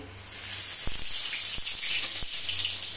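Nigella seeds and turmeric sizzle in hot oil in a pan as a tempering for a potol posto dish, a steady close hiss with a few soft knocks of a utensil against the pan.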